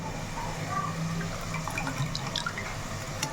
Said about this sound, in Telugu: ఇలా చక్కగా పులుసు కూడా పోసేసుకుందాం